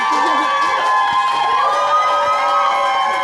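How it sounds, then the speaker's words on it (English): An audience at a sustainability talk at the Cannes Lions festival cheers and whoops loudly and continuously, with excited shouting and tonal music running beneath the crowd. "Give Suhanna a big round of applause here"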